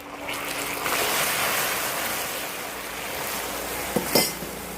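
Hot water being stirred into sugar syrup in a pot for a Christmas plum cake, heard as a steady broadband swirling hiss with a couple of brief clinks of a utensil against the pot near the end.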